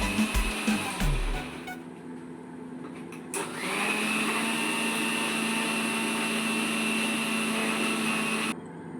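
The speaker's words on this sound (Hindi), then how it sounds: "यहाँ प्रोसेस हो रही थी जिसमें हम लोगों ने मिक्सी में इस मसाले को पीस रहे थे।" A mixer grinder whirs loudly and continuously grinding spice paste for egg biryani, starting with a few short bursts before settling into a steady high-pitched grinding whine that cuts off abruptly.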